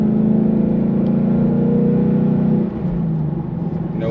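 A steady, muffled low drone inside a 2021-22 Mustang GT Convertible with the top and windows up and exhaust in sport mode, at cruising speed, with engine rumble and faint road noise that dips briefly partway through.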